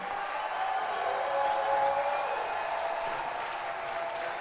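A baseball crowd at an IBL game, Barrie Baycats at London Majors, applauds and cheers steadily with a final strike looming, the clapping swelling slightly midway before settling into a sustained wash.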